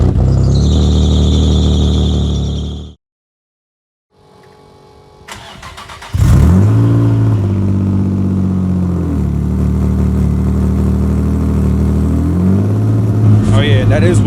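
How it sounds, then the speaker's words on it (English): A Nissan G35 with a custom mid-mount turbo and single-exit exhaust cranks and fires on a cold start, settling into a loud rough idle with a high belt squeal over it after a brief silence. "I've been dealing with that belt squeal for months now"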